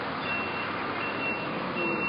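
A garbage truck's reversing alarm beeps steadily in a repeating pattern, moderately near, over a low outdoor background rumble with no talking.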